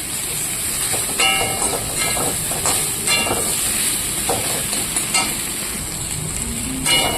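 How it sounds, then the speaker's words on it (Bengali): Leafy greens (saag) sizzle lightly in a pan with a steady hiss, broken by scattered clinks and scraping sounds from nearby kitchen work. "শাকটা হালকা ভাজা হতে হতে ওদিকে আমি চালটা বেটে নিচ্ছি"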